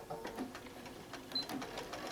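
A sewing machine running a short back stitch on a quilt-as-you-go mat, giving a faint, quick, even mechanical chatter that lasts about two seconds.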